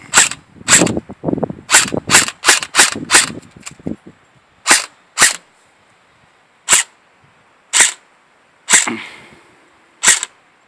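An M4 airsoft rifle fires about a dozen sharp, snappy shots nearby. A quick irregular string comes first, then single shots spaced a second or so apart, each a crisp crack with a short, faint tail.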